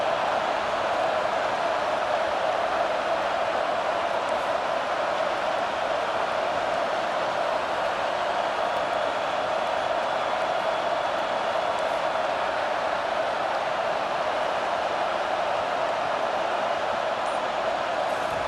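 Stadium crowd roaring in EA Sports College Football 25, a constant, loud wash of distant cheering that never lets up, with no distinct voices standing out.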